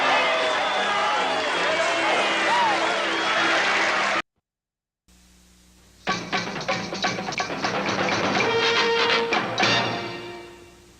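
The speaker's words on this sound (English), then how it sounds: "They're getting a good round of applause from their own booster club" Booster club fans from Charlestown applaud their hockey team at an arena in Peterborough, a dense, sustained round of clapping that swells after a brief gap and carries on loudly before fading out.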